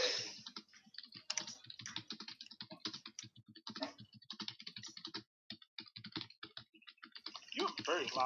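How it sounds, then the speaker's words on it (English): Rapid, loud computer keyboard typing during an online tabletop roleplaying session, dense clattering keystrokes in quick bursts with short pauses, close and prominent while people talk over it. "You have a very loud keyboard."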